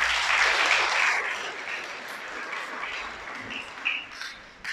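A church congregation claps together during a Spanish-language sermon, a burst of applause that starts strong, then gradually thins and fades, with a few scattered claps lingering at the end.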